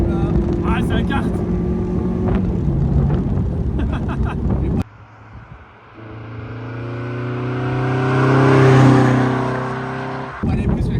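A Mazda MX5 roadster engine drones with wind noise and voices, then goes quieter before accelerating in a rising, swelling roar that peaks and fades back to cabin rumble.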